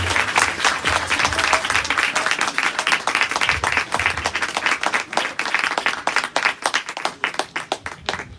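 A church congregation claps loudly and steadily during a sermon welcome, dense overlapping applause filling the room for several seconds, with sharper individual claps standing out as it begins to thin toward the end.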